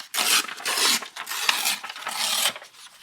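A journal page is torn by hand to trim it for floral papercraft. Up close, the paper gives several long, rough rasping rips in quick succession, a fairly loud, breathy tearing noise with no voices.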